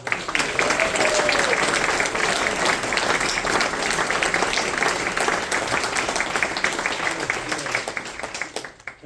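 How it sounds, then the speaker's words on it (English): A live audience claps in a sustained, dense round of applause that holds steady and loud, then fades out at the end. "Could we have one more round of applause for all of us?"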